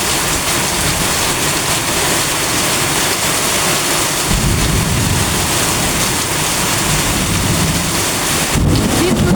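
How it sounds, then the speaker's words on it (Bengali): Heavy monsoon downpour pounds steadily, with deep thunder rolling in twice beneath the dense hiss of the rain, loud and close. "আকাশে মেঘ ডাকতেছে গুরুম গুরুম করে।"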